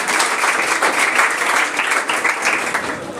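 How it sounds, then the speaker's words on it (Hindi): A crowd at a Bihar board matric exam prize distribution ceremony breaks into dense, sustained applause, many hands clapping together at an even, lively level for a few seconds. "एक बार जोरदार ताली बजाइए।"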